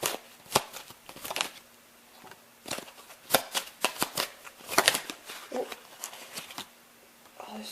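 A deck of tarot cards shuffled up close, scattered bursts of crisp flicking and slapping with quiet pauses between them.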